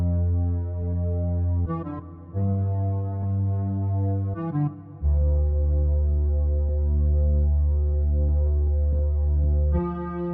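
Smooth Juno-style synth bass line from a custom Serum patch for a dreampop track, playing long sustained low notes with a few pitch changes, steady and full with no talking.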